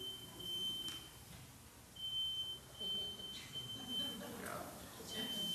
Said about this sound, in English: I hope that's not the fire alarm.